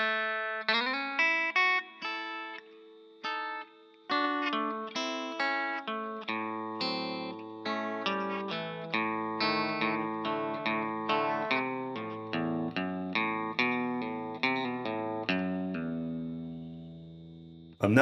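Electric guitar plays the intro of a country tune, a quick run of picked notes, pull-offs and bass-string lines, clear and close with an effects-unit tone, ending in a brief thump.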